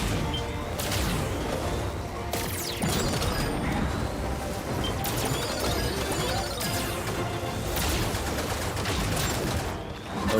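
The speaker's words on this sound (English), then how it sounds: "Laser turrets. Boost to outrun their fire." Laser turret fire in a Star Fox game, loud rapid bursts of shots with mechanical crashes and impacts, dense and continuous throughout, with no talking.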